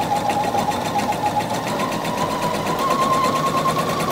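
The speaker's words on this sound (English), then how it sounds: "So I'm just going to make a seam." A Pfaff 720 Quilt Expression sewing machine stitches a seam in stretch denim, running as a steady, fast mechanical whir with a rapid even needle rhythm, close and continuous throughout.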